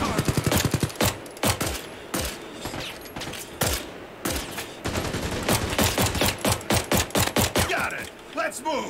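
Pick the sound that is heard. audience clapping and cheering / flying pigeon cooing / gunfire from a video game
gunfire from a video game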